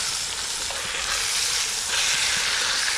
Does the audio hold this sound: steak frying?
yes